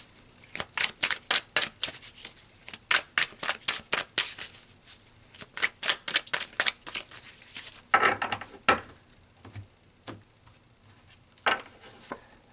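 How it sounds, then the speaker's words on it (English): Tarot cards are shuffled by hand in quick bursts of crisp riffling slaps, close and clear, with brief pauses and a looser rustle partway through; no one speaks. "So let's pull some more cards"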